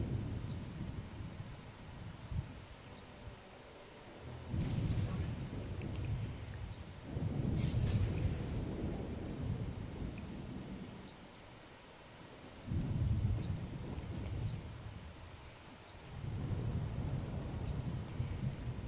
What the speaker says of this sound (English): it is freaking raining outside